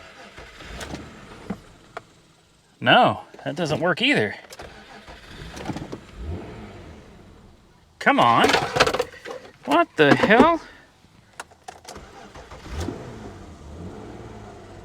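A 2001 Nissan Maxima engine cranks in two loud, strained bursts with a pause between them, and someone talks over the attempts.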